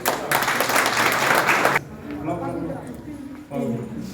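Dense group clapping at a political joining event for NC welcomes a new member. It stops abruptly after under two seconds, and voices talking follow.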